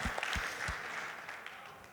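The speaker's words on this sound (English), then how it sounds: "Another round of applause." Audience applause at a Connecticut Sun town hall, heard as a short burst of clapping that fades within two seconds, fairly faint and mixed with crowd murmur.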